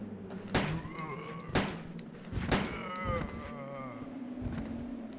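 Gunfire in the video game Resident Evil 2: four sharp shots about a second apart, each leaving a ringing metallic tail under a faint background drone.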